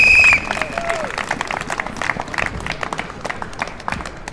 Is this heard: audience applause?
yes